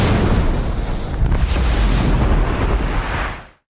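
A loud, roaring explosion from the war film Warfare, striking a tank and house amid smoke grenades, with a broad rumbling blast that sustains for about three seconds before cutting off abruptly.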